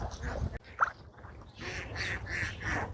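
Farm ducks quack in a quick, fairly faint run of calls over low background rumble, with one brief louder squawk.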